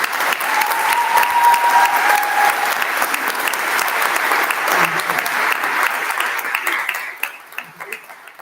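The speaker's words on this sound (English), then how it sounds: "can I have a round of applause for Claire?" Audience at an annual award ceremony in a big hall gives a round of applause, full and sustained clapping that fades out near the end, with a brief voice heard early on.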